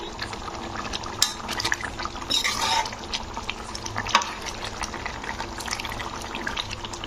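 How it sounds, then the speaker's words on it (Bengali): Potato curry gravy bubbling in a pot on a stove, with a soft continuous liquid simmer and a brief burst of louder bubbling or lid noise, close and without talk. "ঝোলটা আমার ফুটেও গেছে"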